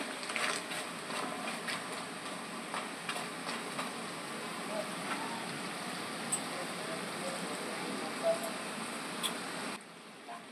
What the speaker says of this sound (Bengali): দেখো এটা এখনো হয়ে পারিনি, আমি এইভাবে সবকটা ভেজে নেব।